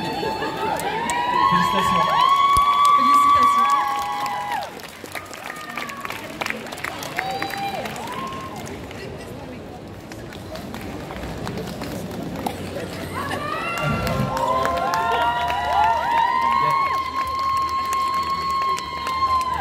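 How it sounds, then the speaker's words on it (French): An audience at a Japan Expo cosplay show shouts and cheers from all sides, a loud roaring crowd with high-pitched screams that swells at the start and end and eases in the middle, with scattered voices throughout. "on entend crier en arrière, on entend crier en avant, de tous les côtés."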